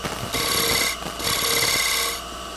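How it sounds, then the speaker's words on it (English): Scraper tool shear scraping a spinning wooden workpiece on a lathe, two loud bursts of bright rasping friction separated by a short pause, close and alone. "if I cut with the upper edge and I do it very gently, and then as I move around, I rotate the tool very slightly"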